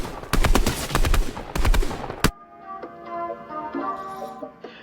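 Rapid automatic fire from a SCAR assault rifle in a video game, two loud sustained bursts of closely spaced shots, then a sharp cutoff into quieter game ambience with faint clicks.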